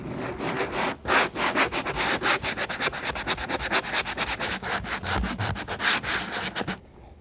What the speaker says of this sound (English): I'm going to get a sanding block and just lightly sand it